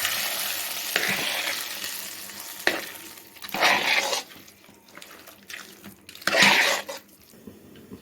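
Jeera samba rice ven pongal is stirred and mixed in a pan, with several separate bursts of scraping and sticky mixing spaced across the stretch and quiet gaps between them.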